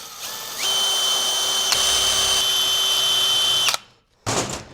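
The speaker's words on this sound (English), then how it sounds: "I'm going to take the same drill bit size, which was a number 11, and I'm just going to come in here and mark my hole." A drill spinning a number 11 bit whines steadily and loudly up close while it dimples metal, holding a high pitch for about three seconds before cutting off, then a short burst of clatter follows.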